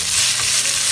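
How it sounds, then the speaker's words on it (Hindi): Carrots and onions sautéing in a pan over a high flame, producing a steady, loud, close sizzle of frying with no pauses and no voices. "कैरेट को हम 5 मिनट्स तक सॉटे करेंगे हाई फ्लेम पर"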